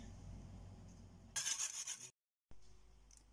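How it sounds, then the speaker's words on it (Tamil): Four eggs whisked in a bowl for egg paniyaram, heard as a short burst of quick, close scraping and rattling strokes that stops abruptly into a moment of silence. "எக்கை வந்து இந்த மாதிரி கலக்கிட்டு வந்துட்டேங்க"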